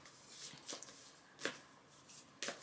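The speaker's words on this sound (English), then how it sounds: "I'm just gonna do a little shuffle here" Oracle card deck (Animal Apothecary) being shuffled by hand, giving faint, soft riffling bursts at irregular intervals, quiet and close, with no talking.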